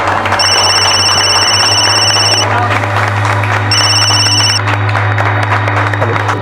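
A phone ringtone plays in two bursts of electronic tones, a longer one then a shorter one after a pause, over a steady low hum and dramatic background music.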